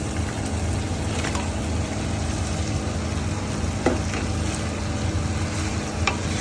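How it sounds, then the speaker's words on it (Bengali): Bhetki fish bones sizzle and fry steadily in a spiced pan, a continuous close crackle with a few brief stirring scrapes and clinks, no talking. "এবার আমি এর মধ্যে এই ভেটকি মাছের কাঁটাগুলো দিয়ে দেবো"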